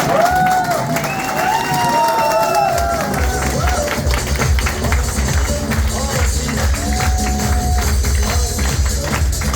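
A restaurant-opening audience rises to its feet, clapping and cheering loudly, with whoops and shouts over the dense applause and a voice calling out above the crowd.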